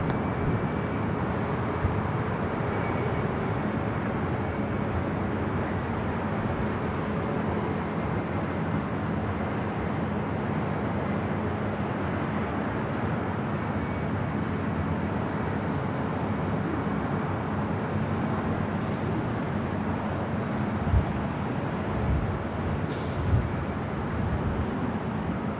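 A Boeing 787 Dreamliner airliner at Los Angeles airport (LAX) gives off a steady distant low roar of jet engines that holds through the whole stretch, with faint background rumble and no talk.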